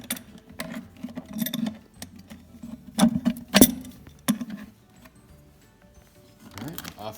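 Metal bolts and the front plate being taken off a lock during key making, heard as close, sparse clicks, scrapes and clinks at irregular intervals, with a few sharper metallic knocks near the middle.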